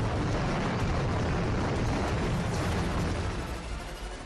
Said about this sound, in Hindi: वीडियो में देखा जा रहा है कि जबरदस्त धमाका होता है